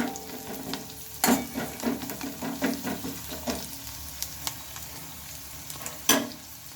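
Finely chopped onion sizzling in a pan while being stirred, with repeated close scraping and clanking strokes of a spatula over a continuous frying hiss.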